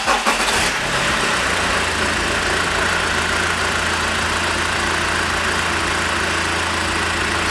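A BMW E90 engine cranks and catches in the first second, then settles into a steady, even idle with a low mechanical hum throughout.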